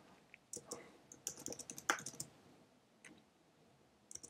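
Code being typed on a computer keyboard during a SwiftUI programming session, with faint, irregular bursts of crisp key clicks, a busy flurry in the middle and then a few isolated taps.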